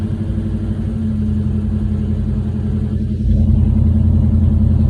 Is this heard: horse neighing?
no